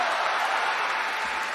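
A theatre audience at a Deyunshe crosstalk show applauds: a steady, dense wash of clapping from many hands, fairly loud and even throughout, with no voices on top.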